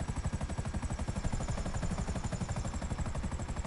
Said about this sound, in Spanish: me está enseñando lo del helicóptero y aquí ando manejándolo un poco